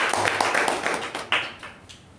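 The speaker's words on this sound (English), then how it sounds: "Let's give a huge round of applause to Toastmasters." Clapping from a small group at a Toastmasters club meeting, a short patter of distinct hand claps that thins out and fades toward the end.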